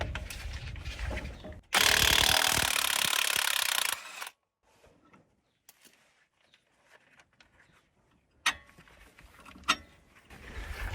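A wrench with a universal joint ratchets on the 18 mm bottom shock bolt of a Jeep Wrangler JK, with a loud burst of mechanical noise early, then sparse close clicks and clanks against near silence.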